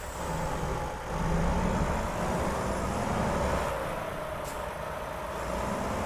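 A Mack truck in American Truck Simulator rumbles along with a deep, steady engine drone and road noise, swelling slightly at times, with a brief hiss partway through.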